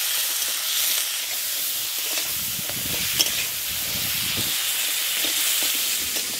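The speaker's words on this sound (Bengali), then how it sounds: "লবণ, হলুদ এটা দিয়ে ভালো করে কাঁকড়াটা ভেজে নিই।" River crabs from the Sundarbans fry in hot oil with salt and turmeric, a steady bright sizzle with occasional stirring scrapes, close and continuous with no voices.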